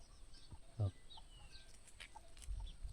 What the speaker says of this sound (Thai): ไก่มันก็พาลูกมันไปหากินนะพี่น้องเนี่ย